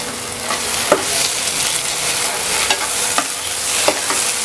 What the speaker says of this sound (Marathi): हा सर्व मसाला एकदम तेलामध्ये छान मी परतून घेते